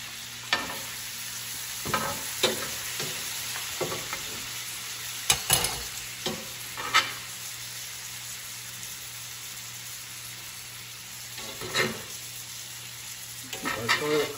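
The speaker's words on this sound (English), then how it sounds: "now it's time to baste." Steak basting in a sizzling pan with roasting garlic cloves, a steady hiss broken by repeated spoon scrapes and spattering bursts of juices poured over the meat, close and alone.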